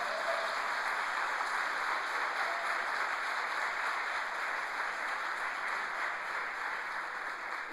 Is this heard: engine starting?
no